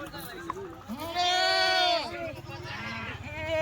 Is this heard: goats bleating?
yes